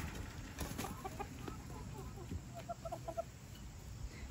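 Black Australorp hens and a rooster in a farm yard cluck faintly and sporadically, as scattered quiet calls at a distance.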